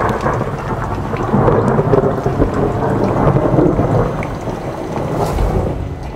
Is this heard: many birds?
no